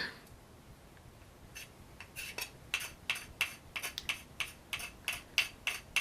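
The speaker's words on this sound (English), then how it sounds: "sometimes just scratching the rosin really helps to just get it started" Dry, rhythmic scraping strokes of scissors scratching a violin rosin cake, close and crisp, speeding up into a steady series of short rasps with a faint metallic edge.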